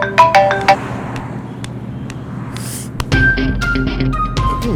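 Mobile phone ringtone chiming in a melodic electronic pattern, loud and close, breaking off briefly then resuming amid light background noise.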